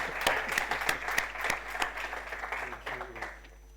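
Audience applause at a migration and border security colloquium, a burst of many hands clapping that fades toward the end, with no talk over it.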